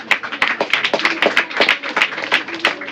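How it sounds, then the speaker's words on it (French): Hands clapping in an audience at a school quiz final, a lively scattered patter of many claps with sharp individual slaps, fairly close and continuous throughout. "Applaudissez."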